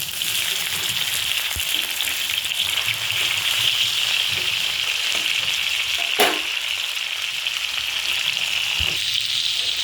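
A potato and pointed gourd (aloo potol) curry sizzles loudly and steadily in a pan while it is stirred, with occasional faint clinks of the spoon and no talking.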